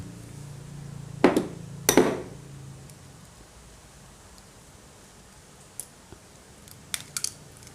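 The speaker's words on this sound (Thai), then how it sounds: "มาลองตอกดูตอกดูดิ ว่าจะเป็นไข่แฝดตามที่" Two sharp knocks of a twin-yolk chicken egg being struck against a hard edge ring out close by, followed after a pause by a few faint clicks and taps.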